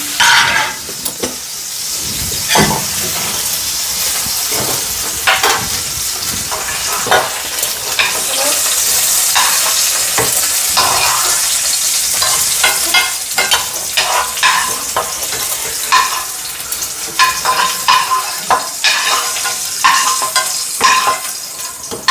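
Grated coconut is stir-fried in a pan for a coconut chutney, giving a close, continuous sizzle with steady scraping of the spoon that rises and falls in bursts. No one speaks.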